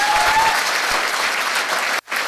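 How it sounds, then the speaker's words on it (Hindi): Dense audience applause fills the room, loud and continuous, then cuts off abruptly near the end before resuming briefly. "ताली जोरदार बजाइए"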